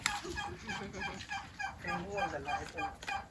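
A turkey gobbles in a series of rapid, warbling bursts, loud and close, with no talking.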